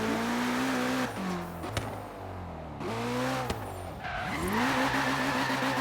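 A car drifts in the racing game Forza Horizon 3, its engine revving up and dropping repeatedly through gear changes while tires squeal continuously, loud and close throughout.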